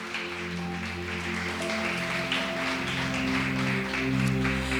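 A church congregation claps and applauds during a worship service, with steady sustained music playing underneath the continuous, moderately loud clapping.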